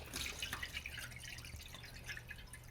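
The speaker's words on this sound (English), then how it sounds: "I can pour a gallon of coolant without getting a single drop into the radiator." Coolant being poured into a 1969 Corvette radiator, a faint steady dribbling and dripping of liquid with soft splashes, quiet and continuous.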